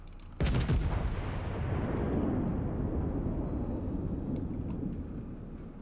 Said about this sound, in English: Of course, I'm shooting at a giant battleship.